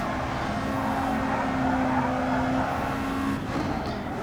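Race cars in GT Sport drone steadily at mid distance, with a sustained engine tone and faint tire noise as one car spins off and is passed.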